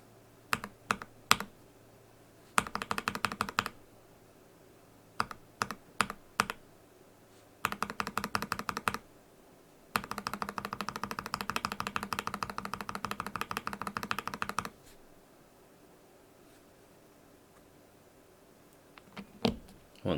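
Keystrokes on a mechanical keyboard fitted with Gateron Yellow KS-3 switches, heard alone and fairly close: short bursts of taps and a long, steady stretch of rapid typing with a slightly thumpy character, then quiet with a few final presses.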